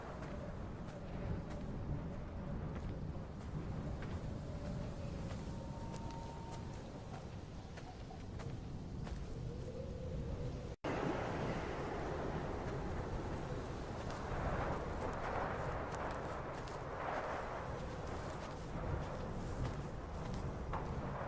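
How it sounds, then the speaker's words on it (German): Strong coastal wind blows in the Dear Esther video game, a steady, dense rushing roar that swells slightly in the second half, with no talking. "der Wind wird sehr, sehr stark."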